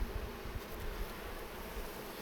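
Honey bees crowd the frames of a strong hive colony fed up for winter, a soft, continuous buzzing hum close by with slight rustling and no voices.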